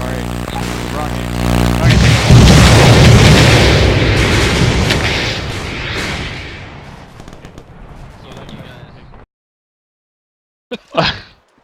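A rocket explosion in ARMA 2, heard as a loud, heavy boom that rolls on for several seconds and slowly fades, followed by a short sharp burst near the end.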